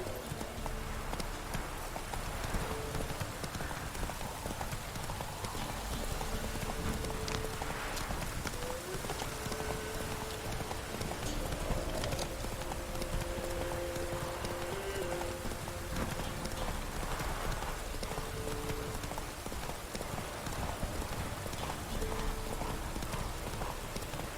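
A horse gallops in The Witcher 3: Wild Hunt with a steady, fast clip-clop of hooves that continues throughout, close and even, over a low ambient bed of game sound.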